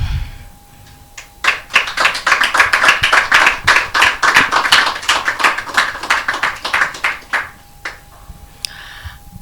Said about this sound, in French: Sous vos applaudissements, nous allons inviter l'artiste à prendre place sur ce plateau